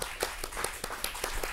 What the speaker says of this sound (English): little applause here in the studio audience